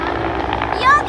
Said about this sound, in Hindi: हेलीकॉप्टर का आवाज आ रहा है।